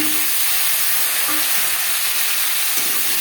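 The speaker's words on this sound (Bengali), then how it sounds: "দশ 15 সেকেন্ড জিরে তেজপাতা ভেজে নেওয়ার পর দিয়ে দেবো আলু।" Potato pieces frying in hot oil with whole cumin seeds and bay leaf, a steady close sizzle and hiss running throughout with no talk.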